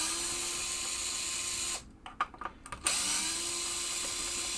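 A power driver backs long wood screws out of the pop bumpers on a 1978 Bally Strikes and Spares pinball playfield, a short whirring burst with small clicks cutting across a steady background hum.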